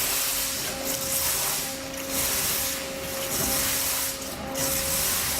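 A waterjet cutter spraying water only, no abrasive: a loud, continuous spray hiss over a steady machine hum, swelling and dipping in periodic waves.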